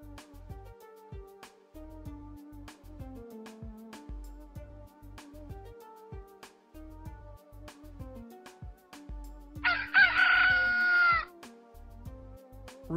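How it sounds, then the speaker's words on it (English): A single loud rooster crow rings out midway over light, bouncy background music. "Rooster."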